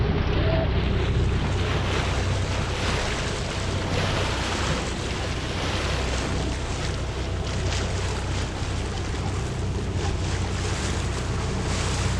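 A sailboat on a budget voyage from the Isle of Man toward Scotland pushes through choppy sea, with continuous wave wash and hull splashing under heavy wind buffeting the microphone, a dense, steady roar.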